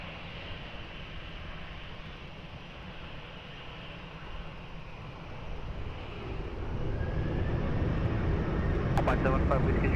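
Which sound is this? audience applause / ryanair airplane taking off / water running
ryanair airplane taking off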